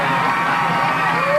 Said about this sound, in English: So the New Oxford crowd whoops it up as the Colonials gain the first down of the ball game.